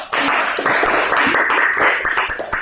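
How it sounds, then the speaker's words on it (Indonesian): Audience in a classroom applauding after a group presentation, a dense steady burst of many hands clapping close by that holds for nearly three seconds without speech. "Kita tepuk tangan."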